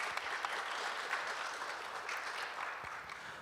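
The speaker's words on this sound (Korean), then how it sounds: "다시 한번 큰 박수 부탁드리겠습니다" Steady applause from a seated audience at a youth forum on sustainability in Jeju, continuous and fairly even throughout, with scattered sharper claps standing out.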